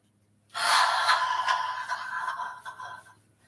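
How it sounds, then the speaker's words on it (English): A long breathy exhale, the healing sound of the fire element in a breathing and movement practice, starting abruptly and trailing off over about three seconds, close and soft with an airy hiss. "exhale out with the healing sound of the fire element"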